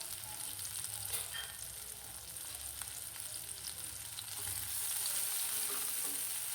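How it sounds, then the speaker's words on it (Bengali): Onions frying in hot oil in a pot, a dense continuous sizzle that stays steady and close throughout, with faint stirring underneath. "এখন দিয়েছি পেঁয়াজ, আর পেঁয়াজটাকে ভালো করে ভেজে নেব।"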